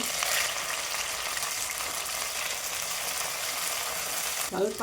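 Mustard seeds, onion, curry leaves and mint fry in a generous amount of hot oil for a fenugreek greens vegetable sagu, giving a loud, steady, close sizzle throughout, with a few brief clattering stirs near the end.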